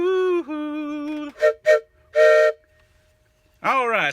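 A person imitates a freight train whistle with a voice, giving a long sustained tone, two short hoots, another held blast and a final rising wail, separated by silences.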